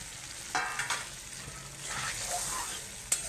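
Chana dal and water in a pan are stirred with a spoon over sizzling heat, a few scraping strokes and splashes over a steady low fry hiss, close with no talk.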